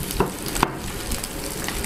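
Soft, steady sizzling of meat on a hot sac griddle for sac kavurma, with a couple of light scrapes and clinks of a utensil against the pan.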